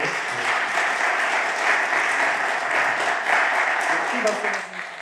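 Church congregation applauding during a military missionary sending service, a sustained, even roar of many clapping hands that continues at a constant level throughout.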